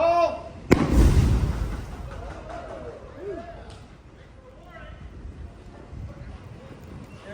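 A pyrotechnic test explosion at a military vehicle show, one sharp loud blast followed by a rumbling decay outdoors in wind, with people talking before and after.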